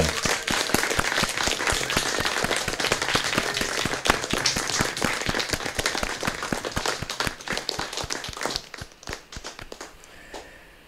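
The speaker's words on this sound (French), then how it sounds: "nous applaudissons nos soignantes et nos soignants" Applause for healthcare workers, from people cheering them at open windows: dense, sustained clapping from many hands that thins out and fades toward the end, with a faint bit of noise beneath.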